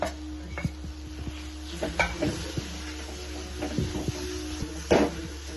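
Fish pieces go into a cooking pan with cumin, producing a low sizzle punctuated by clinks of utensils and pans and a few sharper knocks, close by and moderately quiet.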